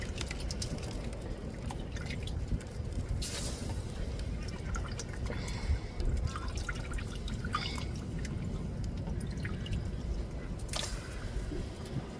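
Fish curry gravy simmers on a stove, giving a steady, close bubbling and soft liquid churning that continues evenly throughout with no voices.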